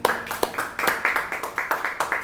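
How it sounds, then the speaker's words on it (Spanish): A small congregation at a church service claps in a loose, uneven rhythm of distinct hand claps, moderately close, brief and without much crowd noise. "Un aplauso."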